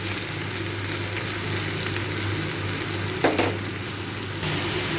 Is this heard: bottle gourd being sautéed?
yes